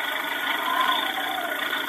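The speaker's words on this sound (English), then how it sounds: "That's the sound of a tractor." A tractor engine labours through sand as a radio drama sound effect, a steady mid-pitched rumble and drone held evenly at moderate distance without pause.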